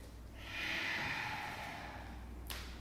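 A long, soft exhalation through the nose during a gentle yoga flow, close and breathy, rising after a brief pause and fading out, with a small sharp sound at the end.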